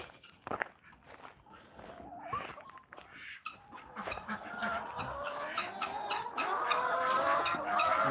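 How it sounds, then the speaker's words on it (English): Chickens on a video game farm cluck and squawk softly amid scattered footstep sounds, growing busier and louder toward the end. "Go take care of some chickens."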